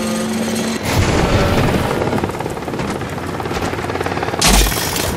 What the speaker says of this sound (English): It's like we even got a helicopter after us.